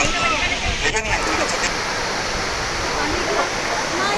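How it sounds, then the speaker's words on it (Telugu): Continuous loud rush of a waterfall at Ramoji Film City, a dense steady roar of falling water heard close up, with a faint voice briefly underneath. "ఇక్కడ వాటర్ ఫాల్స్ వచ్చినాయి"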